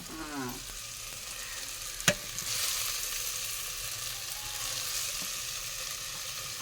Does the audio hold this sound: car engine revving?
no